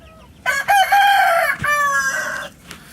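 A Denizli longcrower rooster lets out a single loud, close crow that is drawn out for about two seconds, followed by a faint trailing cluck.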